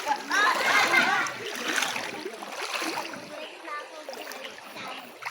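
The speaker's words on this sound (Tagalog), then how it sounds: "Ayan, ang ilog." Clear, cold river water splashes and sloshes in bursts close by, while voices talk over and between the splashes.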